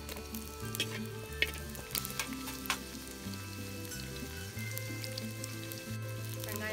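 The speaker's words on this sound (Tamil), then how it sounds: "வெங்காயமும் பச்சை மிளகாவும் நல்லா வதங்கினதுக்கு அப்புறம் தக்காளி" Small onions and green chillies sautéing in hot oil for a village rabbit curry, a steady close sizzle with scattered crackles and light scraping stirs throughout, with no talk.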